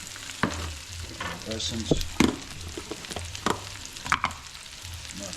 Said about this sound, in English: You cook the sausage separately so it doesn't get that oily.